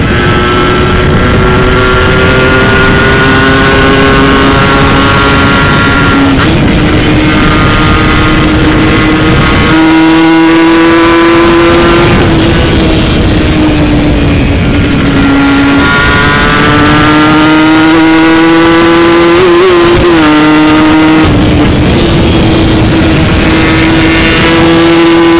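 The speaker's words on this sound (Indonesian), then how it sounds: "Kita coba gas pol." Kawasaki Ninja RR two-stroke motorcycle fitted with a TM32 carburetor, revved hard at full throttle: a loud, sustained buzzing engine note that climbs and dips through several gear changes, close to the microphone with no talking.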